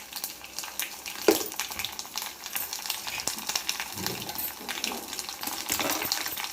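Crushed garlic frying in hot oil for Andhra-style raw mango dal tempering, a steady crackling sizzle with scattered pops and a few sharper clinks, close and alone without talk.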